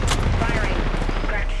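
Rapid gunfire from a battle-royale video game, a dense burst of loud cracking shots that fills the moment, close and harsh, with a player's voice talking over it.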